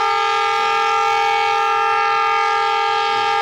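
The Sialkot Express at Samriyal station sounds a long, steady, loud horn tone, sustained at one pitch and close by, with faint rumbling underneath.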